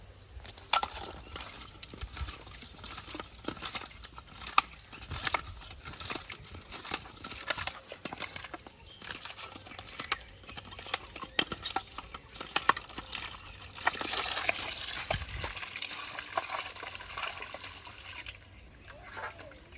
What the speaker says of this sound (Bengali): এবার মাছটাকে লবণ দিয়ে ধুয়ে নেব।